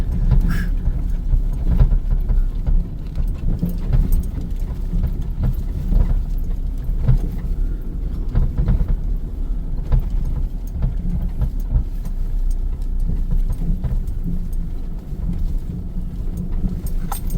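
A vehicle engine rumbles while someone rides, a low continuous drone with road noise and occasional knocks and bumps, steady and fairly close for the whole stretch, with no talking.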